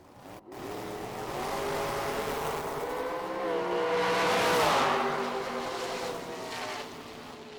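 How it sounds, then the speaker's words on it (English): Blue dragsters racing down a drag strip at a Friday summer shootout, a sustained loud engine roar that swells toward the middle and holds steady, with no voices over it. "A couple of ladies here doing battle in some blue dragsters"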